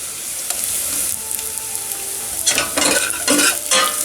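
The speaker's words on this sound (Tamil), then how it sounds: "இந்த வெங்காயம் நல்லா வதங்கிருச்சு." Shallots, curry leaves and dried chili sauté in a pan for karunai kizhangu sambar, giving a bright, continuous sizzle broken by several louder stirring scrapes and clatters toward the end.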